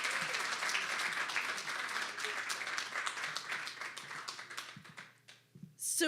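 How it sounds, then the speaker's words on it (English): Applause from an audience at a talk, dense steady clapping that carries on for several seconds, thins out and drops near the end, then briefly swells again. "Let's give her a big round of applause, everybody."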